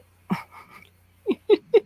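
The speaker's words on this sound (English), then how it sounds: "My Shih Tzu." Small Shih Tzu dog whimpering in a short high whine, then three quick breathy pant-like yips in a row, close and fairly quiet, with a low steady hum underneath.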